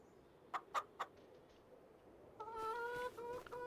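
Chickens at a coop in Farming Simulator 25 give three sharp clucks, then a pause, then a longer run of warbling calls, all fairly quiet and with no voices.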